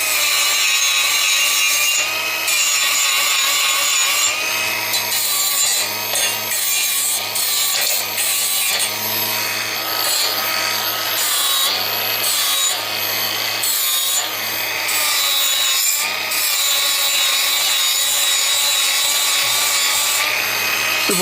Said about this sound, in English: Gotta remove some of this paint